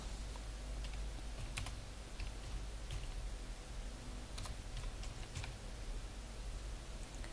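Keys clatter on a computer keyboard as a name is typed into an online pension application form, a steady run of soft clicks over low background hum with no voice.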